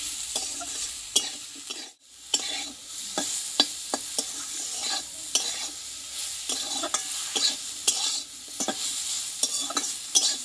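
Eggplant and drumstick leaves sautéing in a pan, with a steady sizzle broken by repeated sharp scrapes and clicks of a spatula stirring throughout, briefly dipping quiet once near the start.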